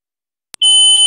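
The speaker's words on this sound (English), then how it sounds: "fire alarm near me." A fire alarm going off indoors during a public hearing: one brief click, then a loud, continuous, steady high-pitched tone that sounds close.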